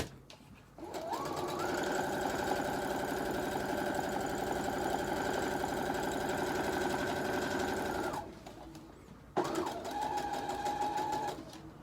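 A sewing machine stitches faux fur for a wristlet, running in one long steady whirring burst before a brief pause and a shorter run, close and prominent with no talk.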